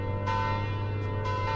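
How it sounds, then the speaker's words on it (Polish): Church bells ring in the Roblox game on a Polish car-driving server: a sustained, resonant peal with fresh strikes landing every second or so, loud and steady, with no talk over it. "Okej, dzwony biją."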